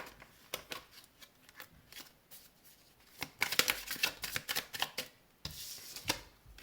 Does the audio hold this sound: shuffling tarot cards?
yes